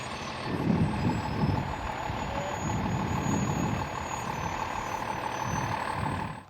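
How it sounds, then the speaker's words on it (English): A brand new 55 truck rolls down over rough off-road terrain, its engine rumbling steadily and close for the whole stretch, with uneven surges as it lurches over bumps and no talk. "right now we got our brand new 55 truck coming down, navigating the same terrain."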